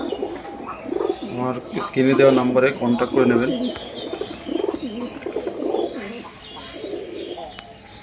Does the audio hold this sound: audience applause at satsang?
no